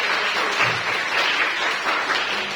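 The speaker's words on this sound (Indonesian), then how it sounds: "Tepuk tangan." A classroom of students gives steady, even applause that holds at a similar level throughout, a diffuse wash of many hands clapping together with no break.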